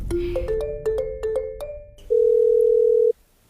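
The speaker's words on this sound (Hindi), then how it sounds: "मेरा फोन बज रहा है किचन में, मैं देख कर आती हूँ" A phone gives a sequence of short electronic tones, followed by one longer sustained beep, clear and fairly loud with no talking.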